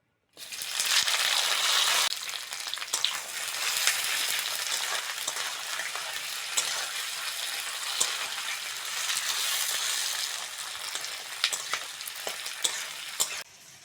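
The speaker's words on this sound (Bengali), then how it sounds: "পেঁয়াজটা হালকা করে নেড়ে চেড়ে নিয়েছি" Onion, green chilli and tomato with bay leaves fry in hot oil, a loud dense sizzle that bursts in at the start, with scraping stirs and occasional clicks throughout, close up and without talk.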